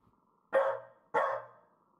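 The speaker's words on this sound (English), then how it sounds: "Oh shit, it's my dog." A dog in the horror game Lost In Vivo gives two loud, close barks about half a second apart, each sharp and then trailing off, against near silence.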